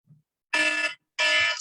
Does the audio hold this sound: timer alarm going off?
yes